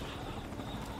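Helicopter rotor chop from Metal Gear Solid V: Ground Zeroes, a brief steady whirring drone at moderate level with no voices.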